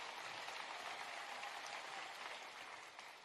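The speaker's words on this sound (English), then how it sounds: "That does deserve an applause." An audience gives steady, even applause at a presidential event at Wheeler High School in Marietta, Georgia, a soft wash of clapping that tapers slightly toward the end.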